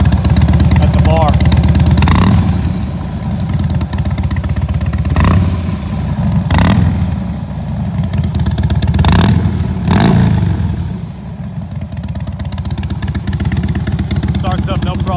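A 2010 Harley-Davidson Dyna Wide Glide running loud and close, its deep V-twin idle broken by several sharp throttle blips that rise and fall over a constant lumpy rumble.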